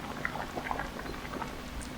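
A pot of cornmeal dumplings, green banana and pumpkin boils on the stove, giving a soft, steady bubbling and patter with small pops, faint and continuous with no talk.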